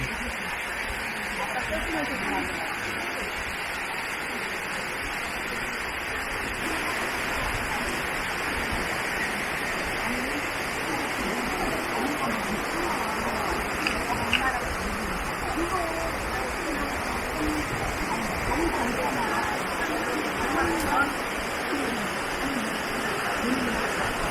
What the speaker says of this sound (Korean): 여기 폭포가 있네